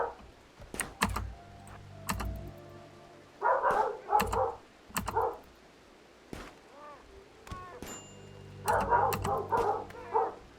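In the colony-management video game RimWorld, a dog barks in several short clustered bursts at two moments, heard among frequent loud clicks and taps of computer keyboard typing.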